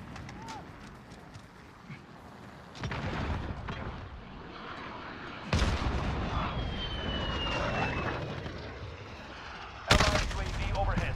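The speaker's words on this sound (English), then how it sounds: "Friendly VTOL on station for overwatch." A friendly VTOL aircraft roars overhead in Modern Warfare, a jet-like rumble mixed with sporadic gunfire and battle noise. Loud bursts hit near 3, 5.5 and 10 seconds, and a game announcer voice is also heard.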